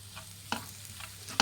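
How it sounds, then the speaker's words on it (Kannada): Chicken tawa fry with butter being stirred in a pan, street food style, a few soft scraping strokes over a faint background sizzle, no voices. "ಬೆಣ್ಣೆ ಹಾಕಿದ ಮೇಲೆ ಮಿಕ್ಸ್ ಮಾಡ್ಕೊಳ್ಳಿ"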